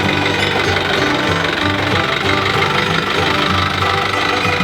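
A David Brown tractor engine runs at a rally, a loud, close, rapid knocking chug that stays steady and continuous with no voices.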